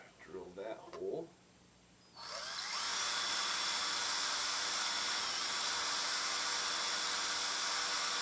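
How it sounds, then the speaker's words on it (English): A brief low voice, then a power drill spins up and whines steadily at high speed through a template into a PRS guitar body for an EverTune bridge install, loud and continuous until the end. "And drill that hole."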